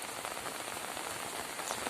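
Rain falls during flooding near Dogura Creek outside Port Moresby, a dense, even patter on surfaces that holds steady and fairly loud throughout.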